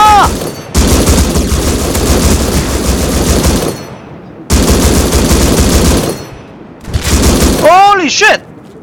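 Sustained automatic gunfire in the online survival game Rust during a five-versus-five base raid, loud long bursts broken by short gaps, with human voices present in the mix.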